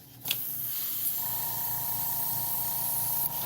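An airbrush at low pressure sprays paint onto a 1:48 Tamiya Vought F4U-1D Corsair model, a soft continuous hiss starting after a brief click and carrying on evenly nearby.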